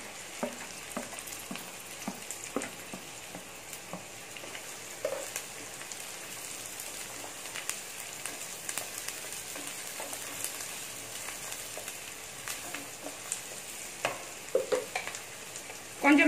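Onions and green chillies sauté in hot oil for a Tamil squid dry roast, making a faint, continuous sizzle with small crackles and occasional stirring scrapes, and no talking.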